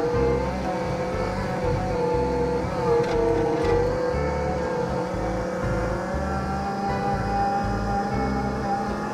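Toyota Stout pickup truck converted to electric power driving uphill through a gear change, giving a steady loud drivetrain drone and whine with a rumbling, pulsing low end, close and continuous with no talk.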